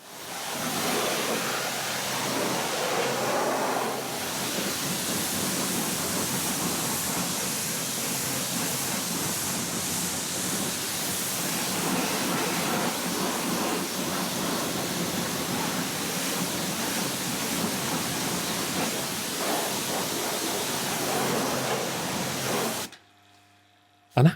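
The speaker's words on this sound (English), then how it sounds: "rinsed off with the Kranzle pressure washer to remove a fair bit of loose surface dirt" A Kranzle pressure washer rinsing loose dirt and brake dust off car wheels, a steady loud hissing spray that runs continuously for over twenty seconds before cutting off abruptly.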